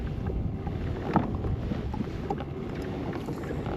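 A Moken 10 kayak is paddled across open water, with continuous splashing and swishing from the strokes, an occasional sharper slap, and light wind noise over the microphone.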